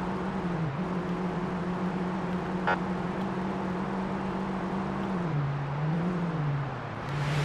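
An undercover police car in the video game Police Simulator accelerates on a highway, its engine drone holding a steady pitch, dipping briefly, then easing down near the end, close and continuous with no talk.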